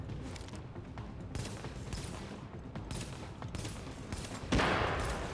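Rapid rifle fire from a squad's firefight in the video game The Division, dense bursts of shots overlapping continuously, with a louder boom near the end; no talking.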